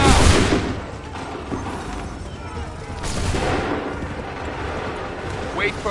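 A musket volley in Assassin's Creed III: a loud crackling burst at the start, a second swell of gunfire about three seconds later, and a rumbling battlefield din throughout.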